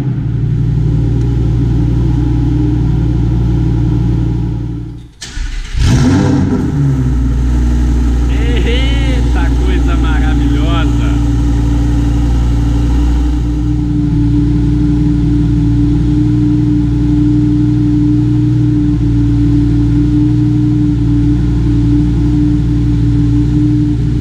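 A Lamborghini Huracan Performante Spyder starts up with a sharp loud burst, then settles into a deep, powerful idle with brief revs, heard close and dominating throughout.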